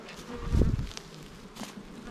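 A brief, close buzz of a honeybee flying past, with soft background noise before and after.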